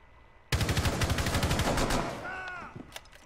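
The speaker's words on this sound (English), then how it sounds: "Would you mind shooting to distract him again?" A loud burst of rapid automatic gunfire in Rainbow Six Siege rattles for about one and a half seconds, then a few faint scattered shots follow.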